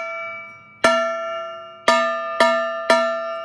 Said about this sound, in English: when I get my pan, I'm going to do 2 slow taps and 3 quick